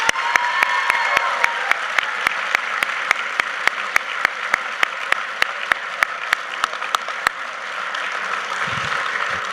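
An audience at a high school National Honor Society induction ceremony claps steadily and warmly, a dense roomful of applause with a few sharp individual claps standing out, tapering slightly near the end.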